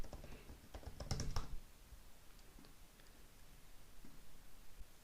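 Keys clattering on a computer keyboard while a PHP Artisan command is entered, a quick burst of close, bright clicks followed by a few scattered, fainter taps and light rustling, with no voice.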